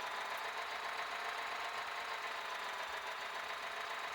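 Tractor engine in Farming Simulator 2014, a steady, faint mechanical hum with a fine knocking texture that runs evenly without pause.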